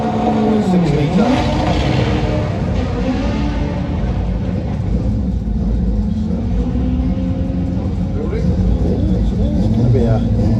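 A front-wheel-drive drag race car with a single-cam 1.6-litre D-series engine makes a run at Santa Pod, its loud engine revving and sweeping up through the gears continuously, with a commentator talking over it.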